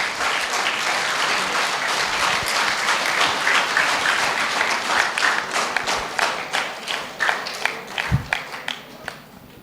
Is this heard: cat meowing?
no